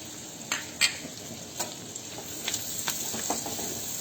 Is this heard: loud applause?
no